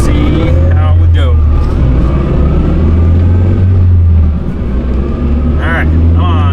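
Honda EM1 Civic engine with a naturally aspirated all-motor build, heard from inside the car during a tuning run, droning loud and steady with rising revs while someone talks over it.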